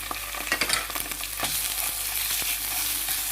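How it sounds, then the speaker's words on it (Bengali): Tomato paste for meatballs being stirred in a pan over medium heat, with a soft steady sizzle and repeated scraping strokes of a spoon. "তারপরে নাড়তে হবে মিডিয়াম আঁচে আসছে আমার চুলাটা"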